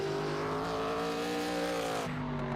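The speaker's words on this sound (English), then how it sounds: "Beautiful, beautiful cars out here tonight." Pro Cup Series race cars run on the track at Hickory, a sustained engine drone that rises and shifts in pitch, then drops sharply near the end. The sound is moderately distant and no one speaks.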